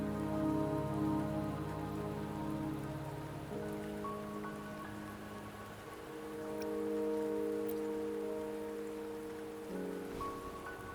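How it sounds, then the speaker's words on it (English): Steady rain falls in the video game Wuthering Waves, a continuous patter over layered sustained music tones that shift every few seconds, with no speech. "Don't worry, the rain won't last much longer."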